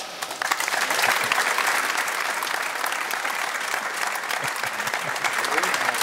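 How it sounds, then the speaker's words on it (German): A studio audience at a German television football talk show claps loudly and evenly for several seconds, the dense applause holding steady from start to finish without any voice above it. "Applaus"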